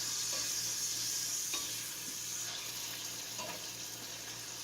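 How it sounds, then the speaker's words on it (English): Mushrooms and burgers sizzling steadily in a frying pan for a Swiss cheese and mushroom burger, a continuous close hiss with faint clinks and stirring noises, no talking. "We're going to let these mushrooms finish cooking up"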